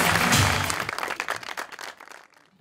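Live studio audience on a Pakistani comedy talk show breaks into a burst of applause, loud at first, then tapering and thinning over about two seconds as the clapping dies away.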